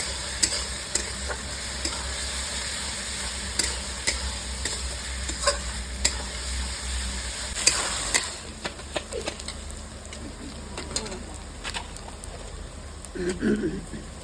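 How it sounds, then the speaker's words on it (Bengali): Ginger-garlic paste frying in a pan for a Kashmiri chicken dish, a steady low sizzle with a spoon stirring and scraping in short irregular clicks, close and moderately loud. "চার চামচের মতো আদা রসুনের পেস্ট দিলাম ভালো করে করতে নেবো"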